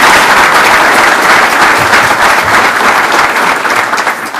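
Sustained loud applause from a City Club audience welcoming Secretary Michael Chertoff, steady dense clapping filling the room and tapering only slightly at the end.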